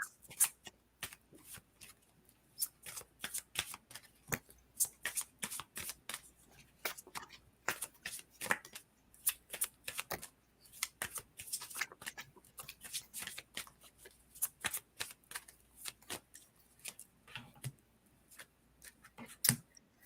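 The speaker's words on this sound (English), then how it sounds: "But I'm gonna pull a few cards here, see what I get." Tarot cards are shuffled by hand in quick, irregular bursts of crisp riffling and slapping, close and clear with no voice over them, running steadily for about twenty seconds.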